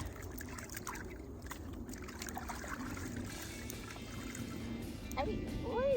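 Fresh water is poured and splashed while a cloth is washed, making an uneven trickling and gushing that swells toward the end, with a brief voice-like sound near the close.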